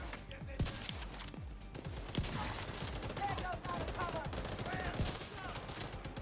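A heavy gunner enemy in the video game The Division 2 lets loose sustained automatic gunfire, a dense stream of sharp shots and impacts filling the whole stretch, with a voice faintly under it.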